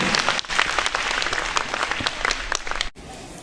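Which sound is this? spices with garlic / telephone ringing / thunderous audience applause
thunderous audience applause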